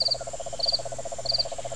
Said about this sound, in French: Ni de criquet, qu'on vient d'entendre, justement, ou de cigales.